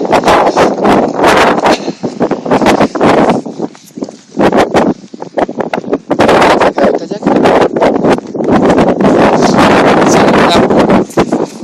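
Strong wind buffets the microphone in loud, gusty roaring bursts that come and go, with a brief lull in the middle.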